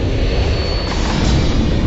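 The engines of the White Knight carrier aircraft, which lifts a rocket plane to 50,000 feet, give a loud, steady, close roar that runs unbroken throughout.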